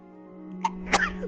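A single sneeze from a person during a PS4 Minecraft session, a short sharp burst preceded by a small intake, heard close and clear against a steady electronic hum.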